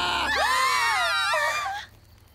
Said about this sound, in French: Elle se met à crier.